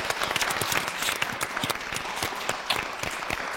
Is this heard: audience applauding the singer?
yes